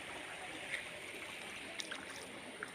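Floodwater flows along a road in a steady, even rush with no breaks, close and fairly quiet, with a few faint splashes and no voices.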